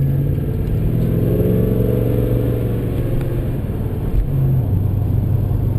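Cabin sound of a 650rwhp automatic Holden E3 Senator accelerating gently around town, a steady low engine drone and road rumble holding even throughout with no talk.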